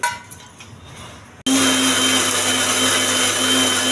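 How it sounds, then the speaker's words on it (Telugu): After a quiet stretch of faint kitchen noise, a mixer grinder grinding tomato chutney switches on and grinds loudly and continuously with a steady high whine. "ఇది కూడా మిక్సీ వేసుకోవాలి."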